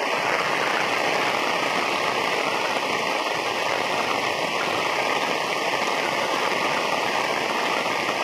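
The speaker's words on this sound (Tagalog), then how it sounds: "Tataas pa po ito guys, yung tubig na ito kasi ulan pa ng ulan dito" Heavy, unrelenting rain with rising floodwater around flooded homes in the countryside, heard as a dense, even rushing hiss that holds steady throughout, without any voices.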